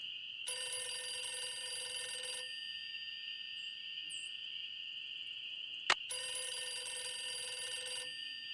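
A telephone ringing in the Nancy Drew game Ghost Dogs of Moon Lake: two steady, bright electronic rings separated by a pause, over a faint background of crickets and insects.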